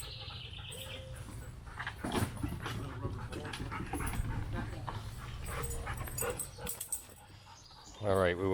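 Dogs pant and whimper at a backyard pool party, with splashing water and people talking nearby, closing on a brief high yelp.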